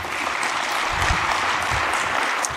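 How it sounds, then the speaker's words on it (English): Audience applause at an industry forum as a presenter from ExxonMobil takes the stage, a steady dense wash of clapping from a large crowd throughout, with no talking. "Please welcome him with a warm round of applause."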